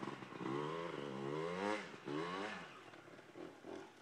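A Honda CR250 or Yamaha YZ125 dirt bike engine revs up and down during a hillclimb on a trail, loud and close, its pitch rising and falling in strained sweeps without talk.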